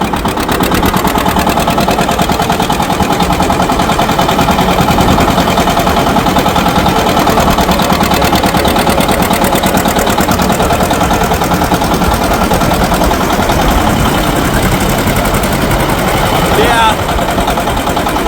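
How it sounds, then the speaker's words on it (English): A John Deere 730 tractor engine runs at full throttle in sixth gear, a steady loud throbbing drone with a fast rhythmic pulse and heavy low rumble, continuous throughout. "I'll go full throttle right here, and we'll see how we do."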